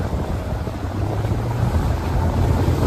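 A houseboat engine rumbles as it throttles up on open water, a loud, steady low drone mixed with wind buffeting and water rush, building slightly toward the end.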